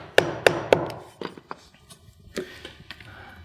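A hammer drives nails into a vinyl siding J-trim corner: three sharp, loud strikes in quick succession, then a looser run of lighter taps and knocks, close by with quiet pauses between.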